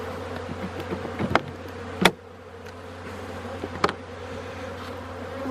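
Honeybees hum steadily around an active beehive at the end of winter, a constant close buzz broken by a few sharp passing wingbeats of individual bees.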